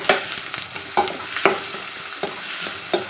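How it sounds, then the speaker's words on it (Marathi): Finely chopped onions with cloves, green cardamom and a bay leaf frying in a pan, a soft sizzle broken by several sharp scraping stirs of the spoon at irregular intervals, close and without any talk. "2 मध्यम आकाराचे कांदे बारीक चिरलेले. हे आपल्याला छान परतून घ्यायचे."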